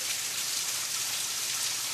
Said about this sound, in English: When I last looked on the radar, it was just bands of rain, and I think I'm just in the middle band now.